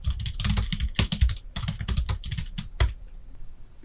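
Rapid typing on a computer keyboard, close and loud, in dense bursts of key clicks with brief pauses, ending in a few isolated strokes; nobody speaks.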